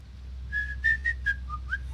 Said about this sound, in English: I need to whistle while I work